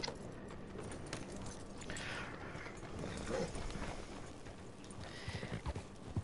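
Horse hooves in Red Dead Redemption 2 Online, a soft steady clip-clop running through game ambience and mechanical clatter, fairly faint and continuous throughout.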